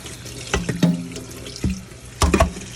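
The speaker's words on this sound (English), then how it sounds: "I rinse them off" Fresh strawberries are rinsed under a running kitchen tap, with splashing water and a few louder bursts as the fruit is moved in the stream, close up and without talking.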